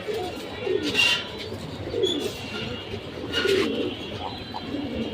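Domestic pigeons of a red-marked breed cooing in a loft, soft repeated coos in bursts over low background noise, close by.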